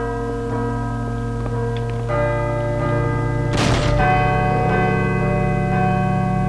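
Bell tolling in the horror game Call of Cthulhu: Dark Corners of the Earth, long sustained metallic tones ringing and overlapping, with a fresh loud strike midway and occasional soft ticks and thunks beneath.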